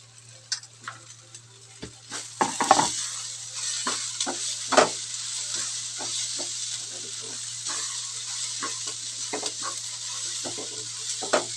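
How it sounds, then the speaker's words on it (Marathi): Ginger and garlic fry with golden-brown onion in a pan for a homemade masala: a steady close sizzle with scattered ticks and scraping taps from stirring, and no talking. "आता अद्रक आणि लसूण टाकून घ्यायचे बघा."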